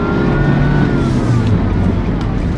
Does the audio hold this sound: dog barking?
no